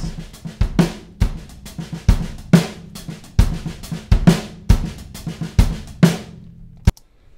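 Dry, unprocessed drums recorded in a bad-sounding room playing a steady groove, punchy kick and snare hits with sharp attacks and little room sound, ending with a final hit.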